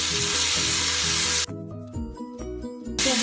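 Tomatoes and onion fry in a pan with a steady, close sizzle that runs throughout, interrupted midway by a stretch where the hiss drops away, then swells back at the end; no one speaks.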